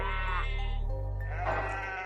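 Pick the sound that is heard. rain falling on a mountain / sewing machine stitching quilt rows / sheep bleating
sheep bleating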